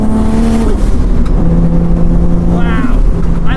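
A 1977 Toyota Celica liftback fitted with a 1JZ engine under way, heard from inside: a loud, steady engine drone with rising and falling pitch as it revs, under constant road noise.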